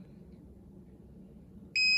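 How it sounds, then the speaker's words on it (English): A piezo buzzer driven from an Arduino Nano pin gives a single sharp, high-pitched beep that starts abruptly at the end after quiet low background hum. "If you hear a beep, that pin's good."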